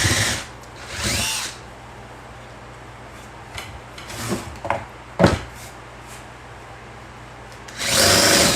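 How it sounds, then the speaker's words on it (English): A power drill whirs in several short bursts under light handling noise, with longer runs at the start and end and brief pulses between quiet stretches. "drill sound warning"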